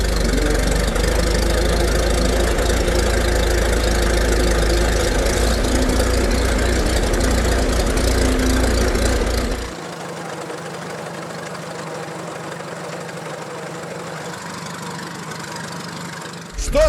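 A Fordson Putilovets tractor engine, petrol-started and warmed up, runs loud and close with a steady low idle and mechanical knocking, then drops to a quieter, thinner running sound for the last several seconds.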